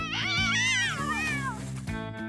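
Cartoon kittens meow in high, wavering cries over a steady musical backing, several rising and falling calls packed into a couple of seconds on a snowy surf-competition course.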